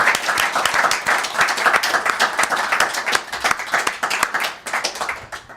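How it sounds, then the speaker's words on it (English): A podcast studio audience applauds and claps for a guest at the close of a 100th episode, a full, steady round of crowd applause that stays loud and close throughout before easing slightly at the end. "Round of applause for Steve"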